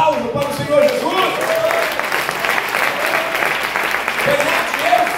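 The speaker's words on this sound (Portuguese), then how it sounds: "vamos dar um aplauso para o Senhor Jesus" Church congregation applauding during a couples' seminar, steady dense clapping filling the space, with voices and cheers mixed in throughout.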